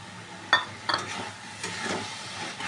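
Small chicken pieces frying in a pan while a spoon stirs them: a steady soft sizzle with a couple of sharp utensil scrapes early on, close and moderately quiet.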